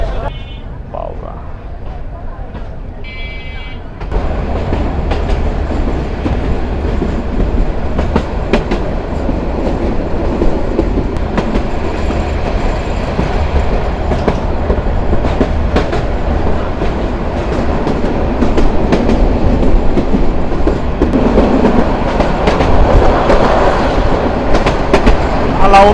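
Korotoa Express train rolling past a dusty rural stop with no platform at Alauddin Nagar station in Lalmonirhat, Bangladesh: a loud, steady rumble of wheels and carriages surges in after a quieter opening and holds for over twenty seconds.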